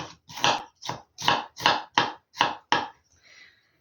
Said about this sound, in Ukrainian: Треба порізати її дуже тонесенько.